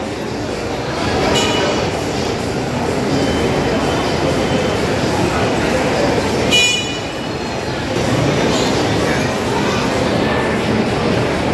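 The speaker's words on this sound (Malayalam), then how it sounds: "മീനുവിൻ്റെ ട്രെയിൻ" A train passes through busy Trivandrum Junction station with a steady, close rumble of wheels and carriages. Two short horn toots sound partway through, with crowd voices mixed in underneath.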